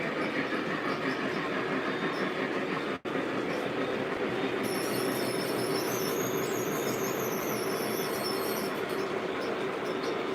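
A Lionel MTH model trolley runs on its track, a steady whirring hum with faint wheel clatter, a brief dropout, and a high squeal of wheels on a curve midway.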